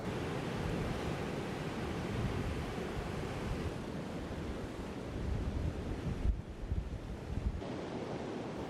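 Surf rolling onto a sandy beach at the mouth of the sheltered waters of Dingle Bay, Ireland, a steady loud wash of breaking waves with wind buffeting the microphone, no voices.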